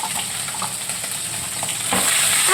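Hot oil crackles and spits steadily in a pan, a dense close sizzle with scattered pops that swells louder toward the end.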